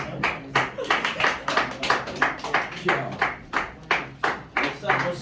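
Comedy-show audience clapping at the Soho Playhouse, a dense run of hand claps with a steady rhythmic pulse that swells and dips across the whole stretch, fairly close and loud.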